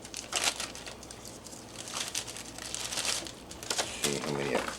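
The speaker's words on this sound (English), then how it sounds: "I'm going to put a few pieces of this sliced steak in Ziploc bags" Ziploc plastic bags crinkle and crumple repeatedly while being handled and filled with slices of freeze-dried steak, close and fairly loud in irregular bursts, with speech partly overlapping.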